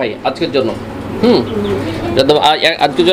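Fancy pigeons, a pair of round-bodied breed birds, cooing at a pigeon farm; loud, close rolling coos in repeated bursts, mixed with someone talking.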